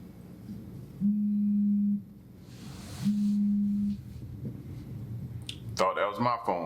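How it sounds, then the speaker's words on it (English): Two identical steady low electronic tones from a phone, each lasting about a second with a pause between, fairly clear over quiet room noise, then someone starts talking near the end. "that was my phone"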